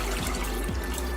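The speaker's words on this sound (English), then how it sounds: "we're gonna bring about 5 cups of water, lightly salted, to boil" Water pours steadily into a cooking pot, about five cups lightly salted, filling it for boiling in a home kitchen; a continuous close splashing rush with no talk.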